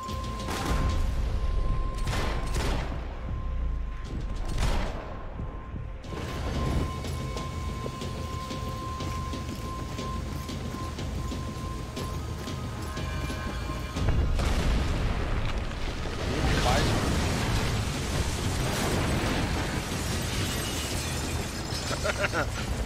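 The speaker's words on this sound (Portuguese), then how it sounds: "Cara, é só explosão." Explosions in the video game Max Payne 3 boom and rumble continuously, loud and dense, with crashing debris and shattering bursts layered under a voice talking over the gameplay.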